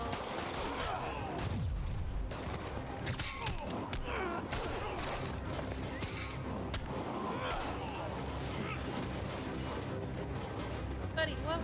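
Enemy gunfire in the video game Marvel's Spider-Man crackles in dense bursts and scattered shots amid action thumps and impacts, steady and fairly close, with a voice talking over the fight.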